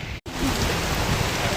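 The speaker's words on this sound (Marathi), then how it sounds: "खूप पाऊस आहे." Heavy rain pours down at a Konkan beach, a dense, loud, steady hiss of drops with a very brief dropout near the start, and no talking.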